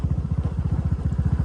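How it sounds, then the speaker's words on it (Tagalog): A motorcycle engine putters with a steady, fast low thumping rhythm while the bike is ridden along a road in Tuburan, Cebu, close and continuous with no voices. "Riding a motor."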